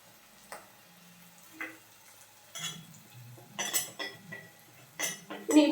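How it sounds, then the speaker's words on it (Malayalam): A spoon scrapes and clinks against a pan while turmeric and roasted fenugreek powders are stirred into the base for a fish curry, with sparse irregular knocks that grow louder and busier toward the end. "ഇനി ഈ പൊടികളുടെ പച്ചമണം മാറുന്നത് വരെ നന്നായിട്ടൊന്ന് ഇളക്കി കൊടുക്കണം."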